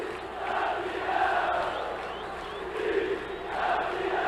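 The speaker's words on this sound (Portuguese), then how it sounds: "a torcida grita tricampeão, tricampeão" Football fans in a stadium chant tricampeão as the pitch is invaded at the end of a Vasco–Fluminense match: a broad, rolling roar of massed voices that swells and fades in waves, fairly distant.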